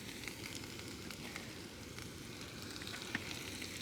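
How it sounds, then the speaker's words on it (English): MSR Pocket Rocket 2 camp stove burning outdoors while food cooks in olive oil, a steady roaring hiss with faint sizzling running unbroken at low level, with no one talking. "So I'm using my camp stove. It's the MSR Pocket Rocket 2 or something. It sounds like a weird vibrator or something"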